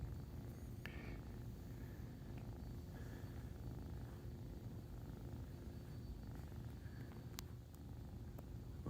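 Kittens purring softly and continuously close by, a steady low rumble throughout with a few faint brief sounds over it.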